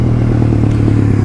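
A motorcycle engine idles or runs at low speed close by, a steady loud rumble with a clattering edge, heard on its own without voices.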